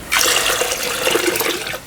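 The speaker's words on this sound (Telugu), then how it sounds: "ఇదే నీళ్ళల్లో ఇంకొక 1/2 లీటర్ నీళ్ళు పోసుకుందాం" Water poured in a steady stream into a vessel holding soaked ingredients while preparing an Andhra-style rasam, a continuous rushing splash lasting about two seconds, close and fairly loud.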